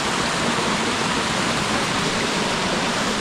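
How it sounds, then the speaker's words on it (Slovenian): Steady, full broadband roar of a waterfall on the Suha stream in Bohinj, Slovenia, heard from nearby as a continuous, even rush of falling water with no voices. "Slap na potoku Suha."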